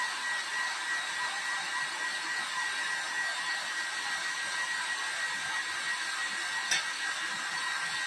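A blower blasts air onto hot jar lids, a steady loud rushing whine that holds unbroken at close range with a faint tick near the end.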